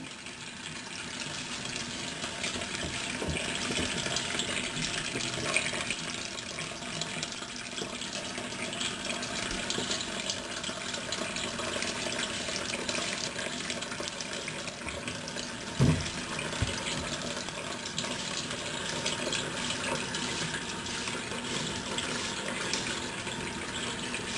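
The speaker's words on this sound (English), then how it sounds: "you're gonna have to rinse your brush a lot." Tap water runs steadily into a sink while a hair brush is rinsed, a continuous close hiss and splash lasting the whole stretch, with a couple of brief knocks along the way.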